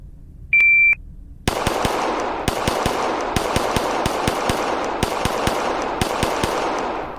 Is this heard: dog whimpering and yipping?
no